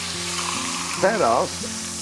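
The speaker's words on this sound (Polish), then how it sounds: "kiedy to jest przyrumienione lekko i białko się tutaj ścięło, zupełnie nic nie przykleja się do spodu" Meat browns in a pan on a Polish cooking show, with a steady broadband sizzle running throughout and a brief voiced passage near the middle.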